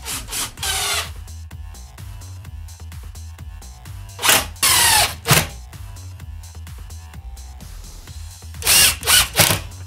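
A power drill whirs in several short bursts while fixing a hinge to a shelf, with quieter pauses of handling and tool clatter between the runs.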